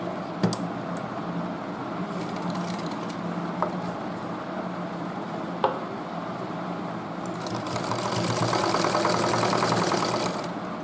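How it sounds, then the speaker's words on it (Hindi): A sewing machine stitches along folded cloth, a low steady mechanical whir with a few isolated clicks, swelling into a louder, faster buzzing run of stitching near the end. "इस पे हम पूरे पे सिलाई लगा देंगे"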